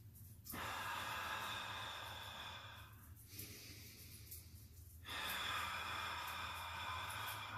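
Slow, full breaths drawn in a prenatal yoga session: two long broadband airy breaths, fairly close and steady, separated by a short quieter pause, with no talking over them.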